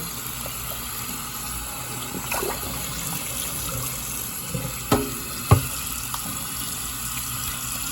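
Rice being rinsed under running tap water in a kitchen sink: a steady stream of water with a few soft clinks and splashes near the end.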